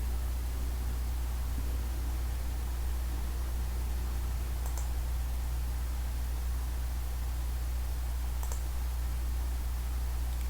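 Two faint, sharp computer mouse clicks, spaced a few seconds apart, while selecting points in TopoGRAPH TG98-SE surveying software over a steady hum and hiss.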